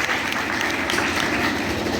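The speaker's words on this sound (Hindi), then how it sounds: "अब बजाओ ताली जोर से" A brief burst of audience clapping, moderately loud and dense, rises at a storytelling gathering.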